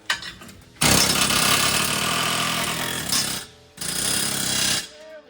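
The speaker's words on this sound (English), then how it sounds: "let's see if the air hammer can help us out here" Pneumatic air hammer hammering on a truck part, loud and close, in two long sustained bursts separated by a short pause.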